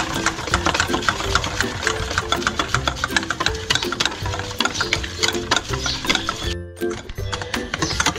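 An electric mixer beats about two tablespoons of ghee for a pan-made Swiss roll cake batter, giving a steady, rapid whirring rattle close by that runs continuously with a brief pause near the end.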